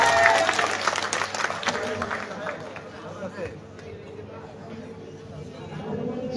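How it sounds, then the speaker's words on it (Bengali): A school prize-giving audience claps for the first runner-up. The applause is loudest at the start and fades into murmuring crowd chatter. "আমরা সবাই খালিদ মাহমুদ সিয়ামের জন্য জোরে হাততালি দেই"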